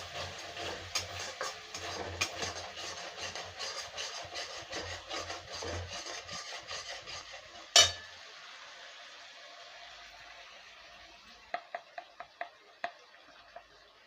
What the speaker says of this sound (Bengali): আর এই চামচে 1 চামচ মতো হলুদ দেবো, দিয়ে এটা ভালো করে কষে নেব।